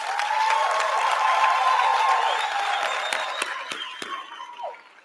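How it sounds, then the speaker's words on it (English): A graduation crowd at a TVET college ceremony breaks into sustained applause with cheers and whoops, loud and dense for several seconds before thinning into scattered claps that trail off. "Let us give them a round of applause."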